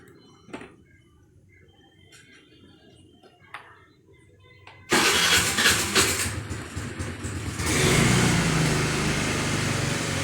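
A Suzuki Lets scooter engine cranks and catches about halfway through, then runs at a loud, rough idle close by, following a few quiet clicks and knocks beforehand.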